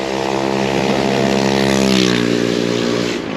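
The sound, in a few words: moped engine revving in traffic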